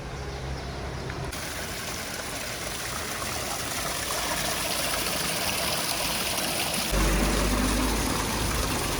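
A steady stream of running water splashes continuously at close range as hands are washed, a constant hissing wash with no voices.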